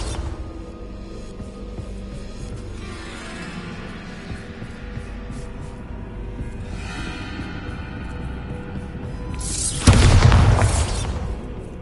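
A Bombarda blasting spell in Hogwarts Legacy goes off near the end as a single sudden loud boom with a crackling burst over a steady ambient game background.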